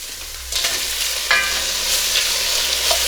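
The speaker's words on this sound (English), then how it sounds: "You're going to cook them for about a minute per side until they are pink and cooked through." Defrosted frozen prawns frying in a hot pan for prawn risotto, a loud close sizzle that swells as they hit the oil, with light stirring and spatula scrapes.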